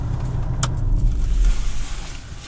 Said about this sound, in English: Just switch the car off.